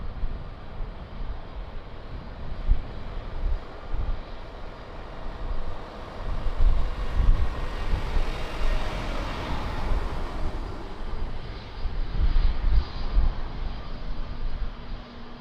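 Aircraft engine roar from a plane on the runway at Lisbon Airport, a broad steady rumble that swells louder around the middle and again near the end, heard alone without talk.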